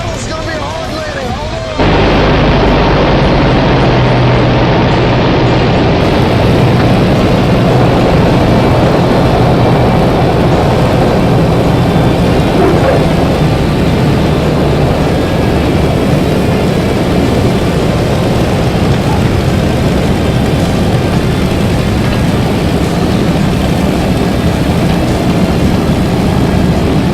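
A heavy aircraft roars in for a hard landing, a loud sustained engine drone with rumbling, crashing bursts that starts abruptly and stays intense throughout, with voices faintly mixed in.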